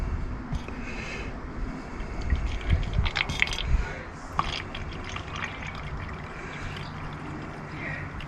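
Liquid pours and splashes into a container at close range, with faint trickles and drips continuing afterward.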